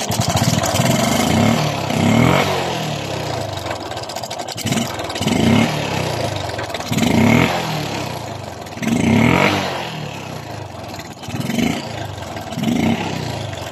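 A Suzuki Smash 115 motorcycle engine with a worn timing chain runs close by with a rough, clattery idle, rising and falling in repeated revs over about fourteen seconds.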